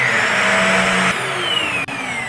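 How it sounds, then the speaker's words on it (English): A powerful handheld bed mattress vacuum cleaner runs with a steady, loud motor whine and airy roar that shifts pitch slightly partway through, with a brief dip near the end. "This is a powerful handheld vacuum cleaner."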